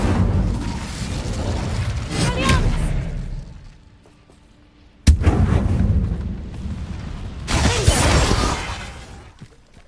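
Incendio fire spell cast in Hogwarts Legacy, loud bursts of roaring, crackling fire with blasts, a sudden sharp impact midway, then more whooshing flames.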